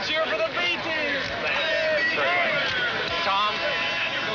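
A crowd cheers and shouts for the B team after the 1970 America's Cup yacht race, a dense, steady roar of many overlapping voices with excited whoops rising throughout.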